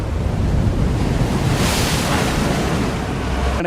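Sea waves surging onto the shore during a swell-surge sea event, a loud continuous roar of breaking surf with wind noise across the microphone.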